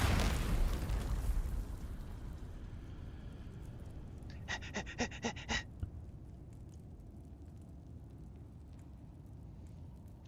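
A bomb going off in the Dune: Awakening video game: a loud, broad roar that opens the clip and slowly fades into a low rumbling tail, followed by a brief run of rapid bright ticks or pops midway.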